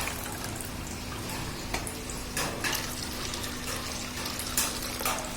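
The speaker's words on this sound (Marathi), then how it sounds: "पाणी स्वच्छ त्याच्यामध्ये घालायचं डाळीचं डबल पाणी त्याच्यामध्ये घालायचं" Water runs and splashes steadily into a container of soaked chana dal, with a few small clinks of a pot or utensil along the way.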